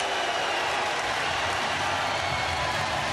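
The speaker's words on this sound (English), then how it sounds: "The crowd are on their feet here in Lumpinee Stadium as the first round ended" A packed Lumpinee Stadium crowd at a Muay Thai bout, on its feet after the round, producing a dense, steady wash of applause and cheering that stays loud and unbroken throughout.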